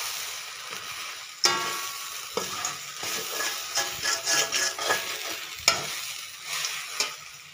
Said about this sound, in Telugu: ఇప్పుడు మరమరాలు వేసేసుకోవాలండి, చూపిస్తాను. ఇట్లాగ బాగా వేయించేసుకోవాలండి.